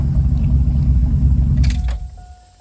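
A 2006 Chevrolet Silverado pickup truck engine rumbles loudly and steadily, then cuts off, leaving a brief chime and quiet.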